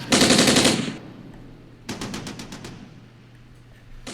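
Units in the war game Armored Brigade open fire, with a loud burst of machine-gun fire, a pause, then a second rapid burst of rattling shots and fading echoes.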